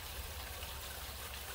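Rainwater pours off a downspout drain catch basin in a steady, faint rushing splash, continuous and even with no voices.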